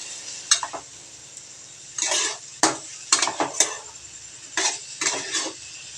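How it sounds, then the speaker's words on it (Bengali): Chicken chow mein ingredients with carrot and capsicum are tossed in a pan, metal spatula scraping and clanking in short irregular bursts, close and crisp, with a faint low sizzle between strokes. "উপকরণগুলো একসঙ্গে নেড়ে চেড়ে ভেজে নেবো"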